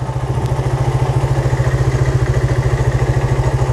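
A Suzuki Satria FU motorcycle engine, fitted with an RX King carburetor, idles steadily right after a kick start, with a rapid, even low thumping and mechanical clatter close up for the whole stretch.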